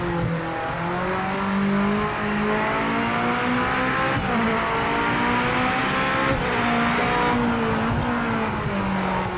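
A race car in the Project Motor Racing video game drones steadily at high revs, its engine tone shifting with gear changes while tires squeal intermittently, loud and close with no voices.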